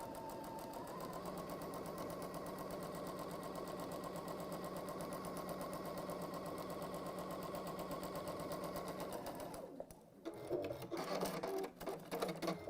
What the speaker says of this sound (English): I'm going to sew back down the other side, again on that line.